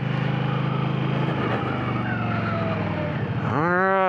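A motorcycle engine runs close during a slow, clutch-controlled turnaround, a steady low rumble that shifts, then rises sharply as the rider rolls on the throttle at the end.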